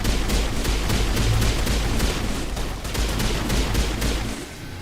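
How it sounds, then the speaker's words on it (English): Rapid, dense gunfire from a video game, with repeated sharp shots and booms running continuously at a loud, steady level for the whole stretch, with no talking. "I shoot her in the butt"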